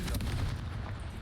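In Hogwarts Legacy, a Confringo spell lands as a brief, heavy fiery blast, a dense low rumble that fills the moment and then fades slightly.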